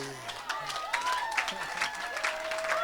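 A church congregation at a healing service claps and cheers in a brief burst of acclaim, with a voice speaking through the noise.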